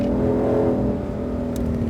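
Mustang Shelby GT500 front-engine car driving on a racetrack at Exotics Racing in Las Vegas, its steady engine drone close and loud throughout, easing slightly in the second half.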